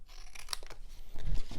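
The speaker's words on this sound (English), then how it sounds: "So we'll do a little snip, snip. I'm going to fold this over and then cut." Scissors cutting through folded paper or card for a Valentine treat box, a few quick crisp snips and crinkles close by.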